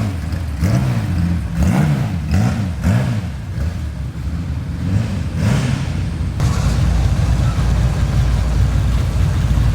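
A Nissan Skyline Hakosuka race build revs repeatedly as the throttle is blipped, a deep rhythmic engine swelling and falling in several pulses before settling into a steady loud rumble up close.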